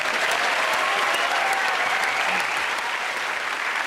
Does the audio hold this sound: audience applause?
yes